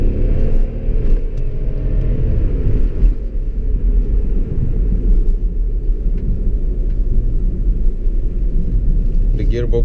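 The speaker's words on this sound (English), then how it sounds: "Second gear, full throttle." A tuned BMW 535d (2005, 370 hp, remapped gearbox) pulls hard in second gear at full throttle, a loud, sustained diesel engine roar with steady rumble that climbs in pitch under constant cabin noise.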